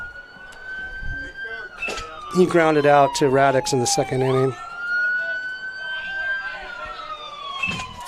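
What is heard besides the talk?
ambulance siren passing beyond the left field fence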